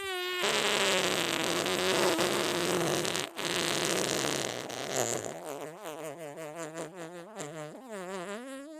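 Fart sound effect heard alone: a long, loud buzzy raspberry that holds a steady pitch, then breaks into a wobbling, bubbly sputter toward the end.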